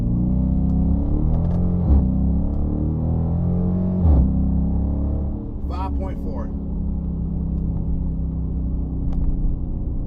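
A 2019 Dodge Charger R/T, driven at night, engine droning loud and steady for several seconds with a throaty rumble that swells and eases, the car heard close from inside.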